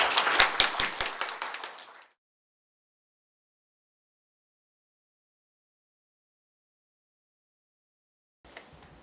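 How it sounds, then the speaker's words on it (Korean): A hotel-hall audience at a church council's 40th anniversary thanksgiving service gives a short burst of sharp, close claps for about two seconds. Near silence follows, then a brief burst of clapping returns at the very end. "한번 일어나 주시고 박수 쳐주시면 고맙겠습니다."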